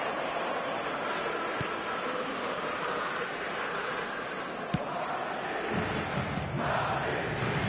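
A stadium crowd in a football video game roars in a dense, continuous wash of cheering, steady and broad with brief sharp accents, swelling slightly toward the end.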